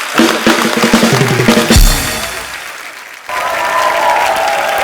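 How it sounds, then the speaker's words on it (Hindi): A comedy-show studio audience bursts into loud applause for a guest named Rajiv, mixed with music and voices, then it cuts to a steady, softer wash of clapping and crowd noise. "राजीव के लिए जोरदार तालियां।"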